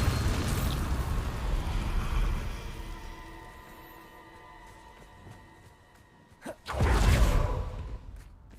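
Bombarda blasting spell in Hogwarts Legacy: a rushing explosive burst fades into a long low tail, then a sharp crack and a second roaring blast erupts near the end, no voices.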